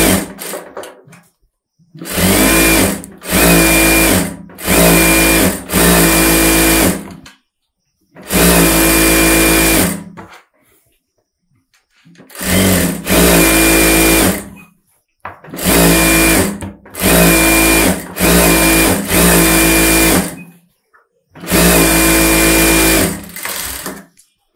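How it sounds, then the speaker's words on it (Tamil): A sewing machine stitches around the lining of a close neck blouse in a series of loud, steady runs of one to three seconds, separated by short pauses. "இப்போ லைனிங்கை சுற்றி தையல் போட்டுடலாம்."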